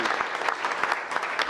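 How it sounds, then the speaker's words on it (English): Applause from the audience at a city council meeting, steady dense clapping throughout the short span, fairly loud with no talk over it. "if you guys would give him a big round of applause"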